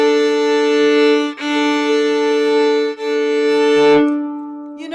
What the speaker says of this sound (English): you draw the bow across the strings